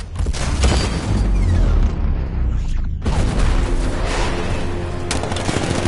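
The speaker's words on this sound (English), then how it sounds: "60mm cannon operational." The Batmobile's 60mm cannon fires in Batman: Arkham Knight. Loud, dense booms and rapid gunfire rumble on throughout, broken by a brief lull before the barrage resumes.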